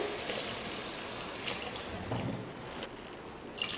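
Coconut milk poured into a pan of cooking coconut milk biryani, a steady broadband wash of liquid running continuously for a few seconds with slight surges, close and moderately loud.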